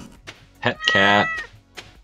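A cat meowing when petted in the Stardew Valley video game: one clear, close meow rising and falling, with faint background game music.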